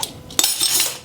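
A spoon clinks and scrapes against a mixing bowl while stirring squash and carrot cake batter spiced with ground ginger, a short close-up burst of metallic taps and scraping.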